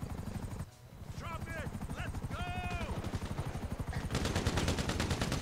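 In the GTA Online video game, a helicopter's rotor thumps steadily while rapid gunfire rattles, building louder toward the end, with someone talking briefly over it.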